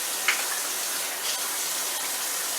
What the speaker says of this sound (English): Yes, we wash our hands around here frequently.